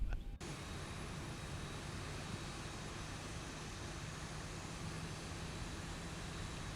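A Boeing 737-800 in a Zibo mod flight simulator taxis on the ground, with a steady, even jet engine whine that holds at low volume throughout with no other sounds.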